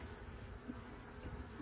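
Honey bees buzz steadily around a small hive being readied for winter, many returning with pollen on their legs; a close, continuous hum fills the whole moment with no talking.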